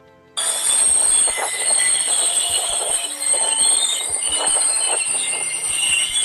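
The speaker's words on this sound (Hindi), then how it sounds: "जब ट्रेन रुकती है तो एक प्रकार की ध्वनि उत्पन्न करती है, कुछ इस प्रकार की ध्वनि" A train squealing as it brakes to a stop, a sustained high metallic screech from the wheels over rumbling, clattering rolling noise, loud and continuous.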